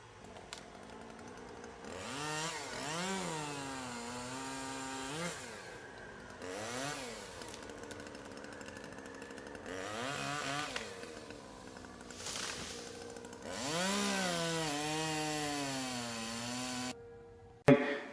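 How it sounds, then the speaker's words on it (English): A hedge trimmer cuts through shrubs at a family home in South Carolina, its motor buzzing steadily and rising and falling in pitch in repeated passes for most of the stretch, fairly close and loud, with no talk over it. "Oh, hedge trimming."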